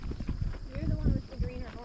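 Hooves clip-clop in an uneven walking rhythm from a reactive horse on its first trail ride, close and moderately loud. A second horse is ridden alongside and people talk over the steps.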